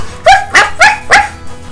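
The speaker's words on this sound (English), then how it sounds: "Oh, hey, whose dog is this?" A dog gives three loud, close barks in quick succession, each a sharp yelp with a rising whine, spaced roughly a quarter second apart with no voices over them.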